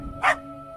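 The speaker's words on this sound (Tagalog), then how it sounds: "Tapos panay ang kahol ng alaga nilang aso sa labas." A dog barks once outside a house in an audio drama about aswang: one short, sharp bark over a low steady background hum.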